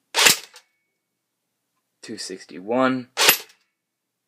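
Two sharp semi-auto shots from a G&G UMP .45 airsoft gun firing 0.20 g BBs, one at the start and one near the end, with someone talking between them.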